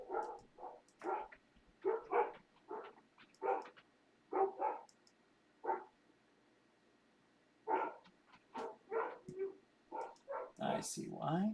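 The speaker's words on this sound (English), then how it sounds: "What are you dogs up there making all that noise for?" Dogs bark and yip in short, clustered bursts from somewhere upstairs. The sound is moderately distant, pauses for a couple of seconds, then resumes with a whimper near the end.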